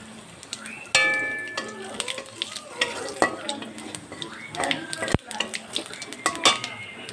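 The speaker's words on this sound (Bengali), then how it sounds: "তেলটা গরম হয়ে এসছে। এবার জিরা তেজপাতাটা দিয়ে দিলাম।" Cumin seeds and a bay leaf hit hot oil in a wok for a village-style green jackfruit curry, giving a loud crackling spit and sizzle with sharp pops and metallic clinks of a spatula, close up.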